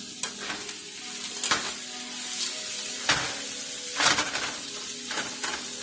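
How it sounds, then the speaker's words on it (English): Onions stirred as they fry in a pan with liver and onions, a steady sizzle broken by several sharp scraping strokes of the spoon, close and clear with no talk. "And stir my onions so that way they don't burn."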